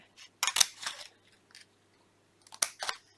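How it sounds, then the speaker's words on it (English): Scissors snip through paper to cut out a window in a fire-light craft, giving crisp close clicks in two clusters of three or four cuts with a quiet gap between. "you could snip up from the bottom, snip out your window"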